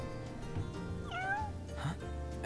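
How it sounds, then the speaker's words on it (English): A cat meows softly in Final Fantasy XV, one drawn-out rising meow over steady game music and ambience, with no talking. "Hey, you're the cat we saw in Golden."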